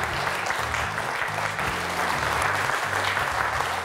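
Studio audience applauding steadily on a French television quiz show, a dense, even wash of clapping filling the whole moment without pause.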